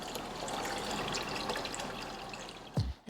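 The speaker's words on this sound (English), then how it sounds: "We can now pull the drain plug. And now a whole lot of water is going to come out very quickly." Water rushes from a livewell drain hose in a fast, steady splashing stream, quite close, ending with a sharp low thump as it cuts off.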